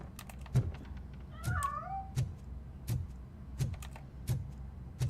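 Several short cat meows from the game RoboCop: Rogue City, one drawn-out rising call in the middle among quick clicky sounds, fairly close and clear with no talking.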